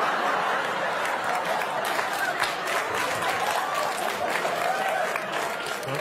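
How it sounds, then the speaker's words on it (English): A studio audience at a comedy news show applauds loudly and steadily, with scattered laughter and chuckles mixed into the clapping throughout. "Don't applaud that much."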